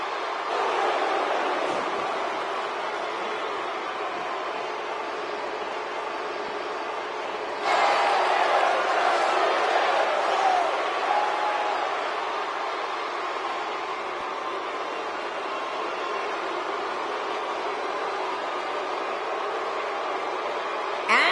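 Arena crowd noise in the wrestling video game WWE 2K19, a steady wash of cheering that swells louder for a few seconds midway and then settles back, with no speech over it.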